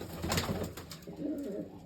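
Soft, throaty pigeon cooing nearby, a couple of short rolling coos in quick succession.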